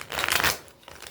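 Tarot cards shuffled close up, a quick burst of riffling and rustling that settles into softer shuffling, with no voices.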